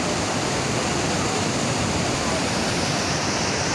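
Water gushing from an open shutter of Peechi dam, a loud, dense, unbroken roar of rushing water close by, steady for the whole stretch with no other sounds.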